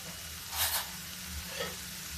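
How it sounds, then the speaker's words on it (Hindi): Boiled kabuli chickpeas go into a hot pan and sizzle quietly, with a brief rise in frying noise and then a steady low crackle; no one speaks. "अब देखिए मैं इसमें मटर डाल देती हूँ।"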